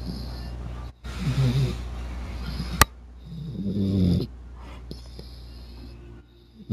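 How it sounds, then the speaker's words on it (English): A pet dog snores in two long, rumbling breaths close by, separated by a short sharp click and quieter pauses. "this is making Thor snore."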